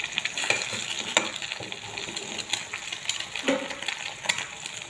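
Two eggs fry in oil in a pan with their yolks broken, a soft steady sizzle broken by occasional sharp clinks of a utensil against the pan, close by.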